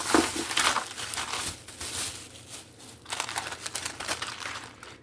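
A bag rustles and crinkles as it is handled close by, a dense run of crackling plastic sounds that rise and fall over several seconds with no talking.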